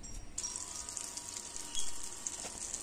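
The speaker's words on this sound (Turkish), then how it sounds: "Yağımın içerisine kadayıflarımı ekliyorum. Pembeleşinceye kadar iyice kavuracağım." Shredded kadayıf pastry sizzling in hot butter in a pan, a steady crackling fry that starts abruptly after a short quiet moment, with faint scraping stirs.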